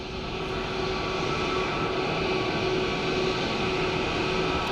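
A British Airways airliner arriving from Heathrow at Dublin Airport makes a steady, loud, broadband engine roar that holds constant throughout, with no talk.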